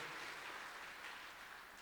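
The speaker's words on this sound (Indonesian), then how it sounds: "Kita berikan tepuk tangan yang meriah buat Tuhan Yesus." A church congregation applauds Jesus during a Good Friday service, a dense, steady wash of hand clapping with no break, faint and distant.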